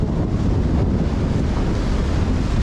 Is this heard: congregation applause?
no